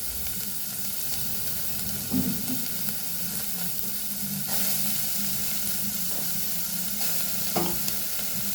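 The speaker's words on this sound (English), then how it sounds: "Then we'll fry our onion and chili also." Onion and chili fry in a little oil for a Goan fish curry, giving a moderate steady sizzle with occasional stirring clatters and scrapes close by.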